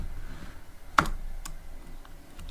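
A single sharp keyboard click stands out, followed by a few faint taps over a quiet background; no voices.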